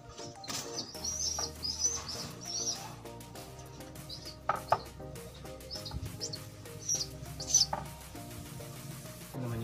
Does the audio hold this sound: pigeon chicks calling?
yes